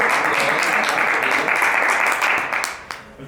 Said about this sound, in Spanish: Hay que aplaudirnos a nosotros mismos.